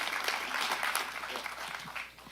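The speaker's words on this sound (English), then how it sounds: "If we can give them a round of applause" Room-filling applause at a county board of supervisors meeting, a crowd clapping in a dense, even patter that fades slightly toward the end, heard from across the chamber.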